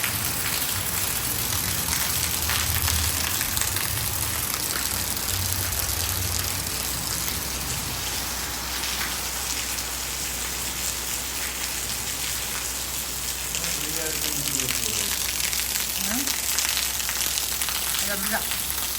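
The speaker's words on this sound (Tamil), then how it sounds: "சரியான மழை பெய்யுது போங்க." Heavy rain falls as a dense, steady hiss through the whole stretch, loud and continuous, with a few faint tonal sounds near the end and no speech over it.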